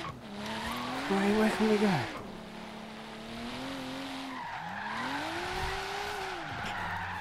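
Tires skidding and squealing as a Rocket Bunny Boss V2 Nissan Silvia S drifts sideways through a tunnel in Forza Horizon 3, with long rising and falling screeches under a droning engine and a brief spoken question.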